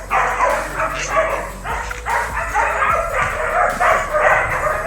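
Several dogs bark and yip in a new kennel and playpen, a steady run of overlapping close barks with some whimpering, filling the whole stretch.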